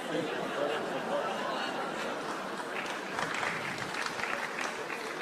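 Audience at a public debate applauding steadily for several seconds, a soft, distant wash of clapping with faint chatter and chuckles underneath.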